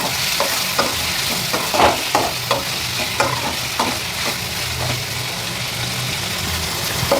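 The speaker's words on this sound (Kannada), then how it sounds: "ಇದೆಲ್ಲ ಫ್ರೈ ಆಗಿದೆ. ಇವಾಗ ನಾನು ಲಾಸ್ಟಲ್ಲಿ ಕೊಬ್ಬರಿನೂ ಹಾಕ್ಕೊಂಡು ಫ್ರೈ ಮಾಡ್ಕೊತಾ ಇದ್ದೀನಿ" Fenugreek seeds, cumin and grated coconut fry in a pan for a sprouted horse gram sambar, giving a continuous crackling sizzle with regular scraping spatula strokes every half second or so, close and fairly loud, with no voices.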